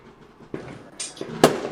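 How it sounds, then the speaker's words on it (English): Fireworks going off in a video game during a Bonfire Night session, with a few sharp bangs and crackling bursts that grow louder toward the end. "they just shoot fireworks all night every night"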